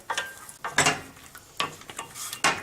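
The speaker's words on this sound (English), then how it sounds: "I want to add my walnuts in here. Okay, just stir this up." Walnuts being stirred in a pan off the heat, giving a few short scraping rattles, each a brief burst of nutty clatter, close and fairly quiet.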